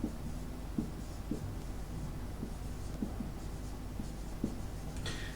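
A pen scratches on paper while working through a class 12 maths determinants problem, quiet close strokes with small irregular ticks over a low steady background hum.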